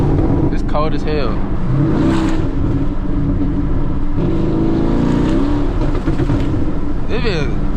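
A Dodge Charger Scat Pack engine revs while driving in a snowstorm, a loud, close, continuous rumble with rising and falling pitch as the car accelerates, with someone talking over it.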